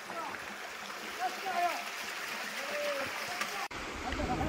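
Water trickles and flows steadily in a stream in Wadi Kabkab near Mecca, a continuous moderate wash with faint bird-like chirps, briefly cut near the end.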